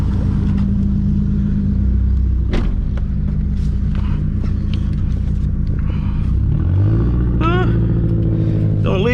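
A loud Toyota Supra MKIV engine rumbles and revs, its low drone booming as if echoing off surrounding walls, with voices talking over it and rising revs near the end.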